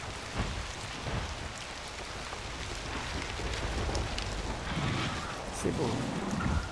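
Rain in the video game Avatar: Frontiers of Pandora falls as a steady, dense hiss with low rumbling gusts throughout.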